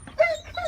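A dog's excited yips and whimpering barks, two short bursts close by, set against a quiet outdoor background while children play somewhere off in the woods.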